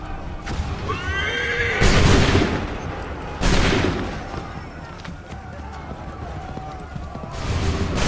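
Musket volleys fire in Assassin's Creed 3 as two loud, booming blasts a couple of seconds apart, mixed with horses whinnying and snorting and shouting voices.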